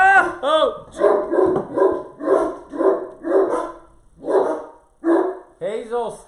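A small dog barks in a rapid, insistent series of sharp yaps at close range, about a dozen bursts with short gaps, loud and dominant over the room.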